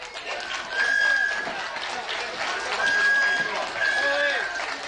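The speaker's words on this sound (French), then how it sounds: "On peut encore l'applaudir très fort." A carnival crowd applauds loudly in broad, sustained clapping that swells and holds, with a voice talking over it and a few whistle-like tones.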